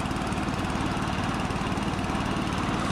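Small engines run steadily on a cataraft dredge during testing, a loud, continuous mechanical drone with a rapid pulsing rhythm and no pauses, close by.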